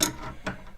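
Metal chips snapping as a tap cuts fresh threads for an ergonomic handle mod, two brief close clicks within a second over a quiet background.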